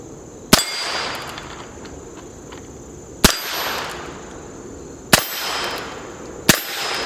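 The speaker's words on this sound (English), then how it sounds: "let's go ahead and shoot all those plates." .22 Heritage Rough Rider revolver shots striking steel plates, four sharp cracks each followed by a ringing metallic clang, spaced irregularly over a few seconds, loud and close with no talk.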